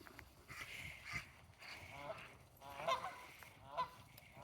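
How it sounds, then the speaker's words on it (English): Waterfowl honk on a farm in early spring. The calls are faint, distant and scattered, with a few slightly louder honks, over soft outdoor background noise and quiet talk. "Oh, look at the duckies."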